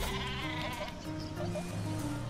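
Sheep bleating in the video game Worms Battlegrounds: a wavering, nasal bleat repeated over a steady game background, moderately loud and close, with no talk.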